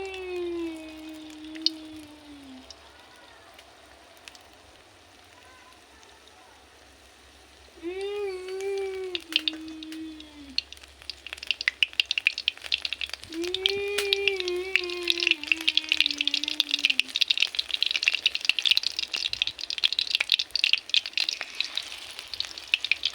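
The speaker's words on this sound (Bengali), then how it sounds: "ব্যাটারে আমার ডুবানো হয়ে গেছে এবার আমি তেলের মধ্যে দিয়ে দেবো" Batter-dipped onion fritters frying in hot oil in a pan, a dense, steady sizzle that swells once they go in and carries on loud and close, with a voice speaking briefly over the start.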